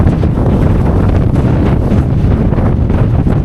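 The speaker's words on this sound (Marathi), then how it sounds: "वारा तुम्ही बघू शकता, वारा जो सुटला आहे ना" Strong wind roars and buffets right against the microphone at Rajgad fort, a loud continuous rumble with no voices.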